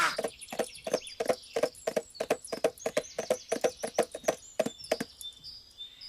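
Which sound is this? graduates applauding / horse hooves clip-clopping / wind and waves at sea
horse hooves clip-clopping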